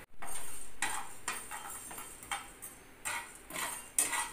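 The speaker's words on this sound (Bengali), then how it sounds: "এবার শুকনো খোলায় ভালো করে ভাজবো।" Whole coriander, cumin and dried red chillies dry roasting in a pan, heard as a soft hiss broken by repeated scraping and rattling strokes of a spatula every half second or so, close by.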